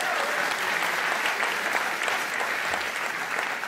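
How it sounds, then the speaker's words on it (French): A rally crowd at a Marine Le Pen event in Vallauris applauds Andrea Orabona, a dense, even wash of many hands clapping continuously at steady loudness. "Je vous demande d'applaudir Andrea Orabona."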